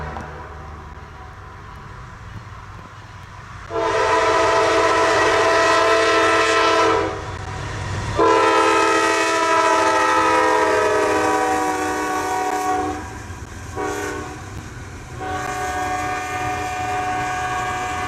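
A double-deck train with a Dash 9 locomotive passes, its loud horn blaring in several long blasts with short gaps over a low rumble of wheels on the rails.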